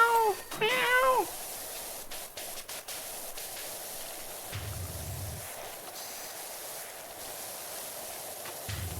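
A single cat meows in a quick burst at the start, fairly close and clear, then gives way to a steady faint hiss with soft low thumps in a pressure-washing video game; no one speaks.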